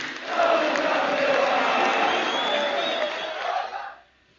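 An audience applauds and cheers at the Ngoma Sport Talent d'Or 2018 award ceremony, a dense sustained wash of clapping that holds steady for about four seconds before cutting off abruptly.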